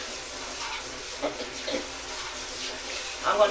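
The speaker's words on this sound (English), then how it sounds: "some water in here" Tap water running into a bowl for washing raw chicken in a home kitchen, a steady hiss with a few brief splashes, close by.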